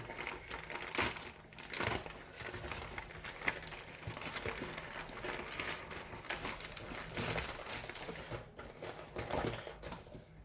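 Packaging of an AliExpress AirPods Pro clone is opened, with crinkling and rustling of plastic and cardboard, faint and close, in irregular bursts over about ten seconds with no talk.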